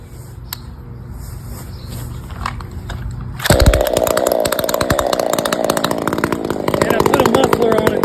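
A race-built chainsaw engine made from a junk clamshell saw idles roughly, then revs up loud and high with a fast, buzzing rasp that continues close by, with a voice talking early on.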